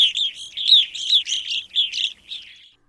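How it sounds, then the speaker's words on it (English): A series of loud, ringing evening grosbeak calls repeated in quick succession, clear and close, with no other sounds around them. "their loud ringing calls are hard to ignore"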